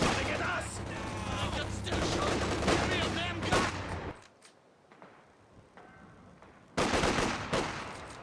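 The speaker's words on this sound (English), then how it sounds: "one of those annoying situations where you're getting shot at and not shooting in return" Dense bursts of machine-gun and rifle fire rattle through a Company of Heroes 2 battle. The shooting drops into a brief lull and then a loud volley breaks in again near the end.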